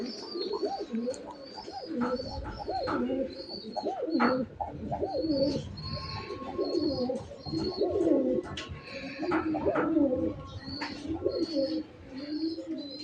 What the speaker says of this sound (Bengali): শুরু করলাম পরম করুণাময় আল্লাহ তালার নামে এক জোড়া শার্টিন কবুতর দিয়ে। এটাকে বলে ঝর্ণা শার্টিন।